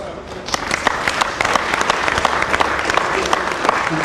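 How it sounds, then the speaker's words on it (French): An audience at a book dedication ceremony applauds M. Soumaré, a steady burst of many hands clapping in a room, fairly loud and sustained without letting up. "je voudrais aussi vraiment vous prier de faire beaucoup d'applaudissements pour M."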